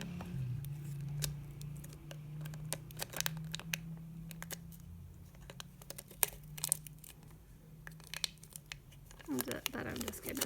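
Paper being trimmed bit by bit for a DIY phone stand: quiet, scattered snips, crinkles and tearing sounds under a low steady hum, with a busier rustle of handling near the end.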